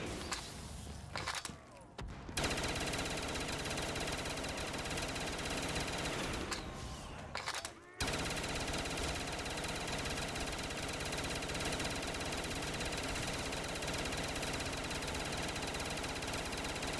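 Bursts of rapid gunfire from a fireworks weapon in Black Ops 3 Zombies, dense and loud for most of the stretch with brief pauses near the start, game effects layered throughout.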